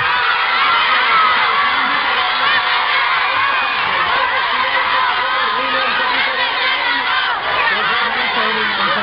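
A large crowd of fans at a semifinal concert event in Albox shouts and chants continuously for a singer, loud, dense, rhythmic cheering with mixed voices throughout.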